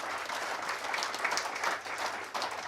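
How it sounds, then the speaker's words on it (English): An audience at a live Newcastle United fan event gives a round of applause, steady dense clapping filling the room at moderate distance. "round of applause"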